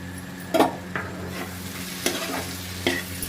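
Onions for a restaurant-style paneer dish sizzle steadily in a pan, close and continuous, while a spatula stirs them in a few separate scraping strokes.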